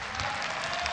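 A crowd at a ONE Championship women's MMA fight applauds and cheers for a Singaporean fighter, a dense, steady wash of clapping that fills the whole short moment.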